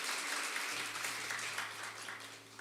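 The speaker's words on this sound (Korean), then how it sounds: "박수로 한번 축복하고" A church congregation applauding during a Sunday service, a dense, continuous wash of clapping from many hands that holds steady and tapers slightly toward the end, with a faint low hum underneath.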